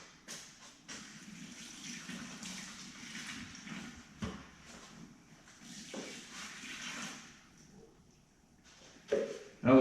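Measured cups of water poured into a container for mixing tile backsplash thinset, a steady close splashing and trickling with brief gushes, ending in a louder clatter.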